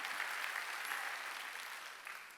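A church congregation applauds during a Sunday worship service, a brief burst of fairly faint, roomy clapping that gradually fades.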